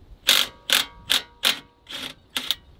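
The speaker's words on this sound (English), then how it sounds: "Let me tighten it a little more" A hand ratchet clicks in six distinct bursts while tightening a coilover bolt on a Scion tC, each crisp ratcheting pass close and fairly loud with short pauses between.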